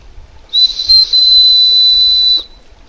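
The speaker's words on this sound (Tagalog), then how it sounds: "O, may pito yan, ha." A whistle built into a knife, a gulok-style blade from Antipolo, blown once in a single loud, steady, shrill tone lasting about two seconds, alone with no talk.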